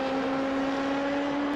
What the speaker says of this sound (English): Gets back in the throttle, you hear the engine there.